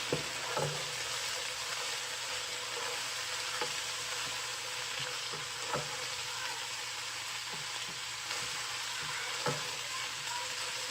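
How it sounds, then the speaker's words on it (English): Tomato paste stir-fried in a pan as a base for chicken stew, a steady low sizzle throughout with soft periodic scrapes and knocks of a utensil stirring, close and moderately quiet. "to stir fry it a little bit for the bitterness of the tomato paste to go off"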